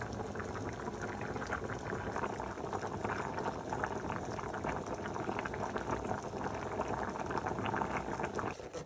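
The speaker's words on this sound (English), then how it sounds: "Got my water boiling next to me" A pot of water at a steady rolling boil for penne pasta, with continuous bubbling and churning, loud and close, holding an even level throughout with no voices.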